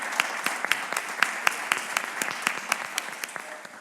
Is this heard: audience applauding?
yes